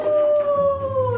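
A search dog howls, one long sustained wavering howl held close and clear over quiet outdoor background, tapering slightly at the end.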